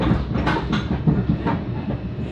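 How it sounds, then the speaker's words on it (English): Interior of a moving train riding on rails, a steady rumble with rhythmic clacks and thumps from the wheels, no voices. "Sorry, we're a little bouncy in this train."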